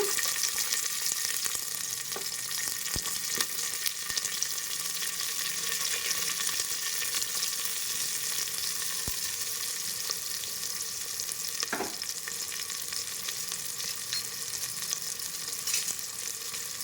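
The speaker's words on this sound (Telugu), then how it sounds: "దీన్ని దోరగా వేయించుకోవాలండి ఆయిల్లో" Onions frying in hot oil for a country chicken curry, a continuous, fairly loud crackling sizzle that holds steady throughout, with an occasional soft stir.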